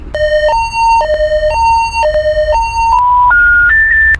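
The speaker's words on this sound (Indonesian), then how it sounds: "pindutin natin ito ng emergency call o tatawagin na yung alarm button" A loud electronic elevator emergency alarm alternates between two tones in a repeating pattern, then rises through higher pitches at the end.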